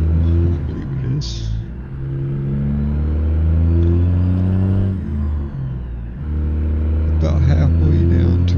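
A Caterpillar C16 truck engine rated at 1,000 horsepower, paired with an 18-speed transmission, drones steadily in a game with low harmonic rumble and shifting pitch, broken by brief dips where gears change, under a voice talking throughout.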